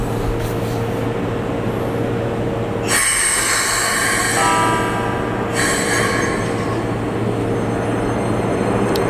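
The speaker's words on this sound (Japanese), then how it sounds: "この電車、まず、試運転で一番最初の電車ですね、一番線から間もなく出発しますね。" A Keikyu Line test-run train pulls slowly out of platform one, a steady rumble of wheels and motors with a bright squeal joining partway through, recorded close by through a wire fence.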